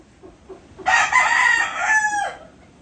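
A rooster crows once, a long, loud, drawn-out call over faint background noise.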